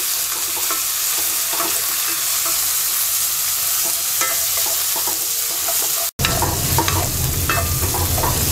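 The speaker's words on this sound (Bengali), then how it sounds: "পেঁয়াজ রসুনের সাথে চিংড়ি মাছটা কিছুক্ষণ ভেজে নেব।" Prawns fry with onion and garlic in a hot pan, a dense continuous sizzle broken by repeated stirring scrapes and clatter, close and loud, with a brief cut partway through.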